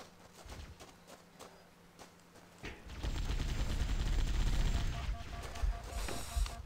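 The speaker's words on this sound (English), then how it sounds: "They shoot like a machine gun." Enemy weapons fire in the Halo: Combat Evolved Silent Cartographer mission. Scattered distant shots give way to a dense, sustained roar of rapid fire and explosions that stays loud to the end, with no talking.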